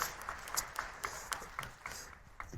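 Church congregation applauding during a Sunday service, a faint, scattered patter of claps heard from a distance.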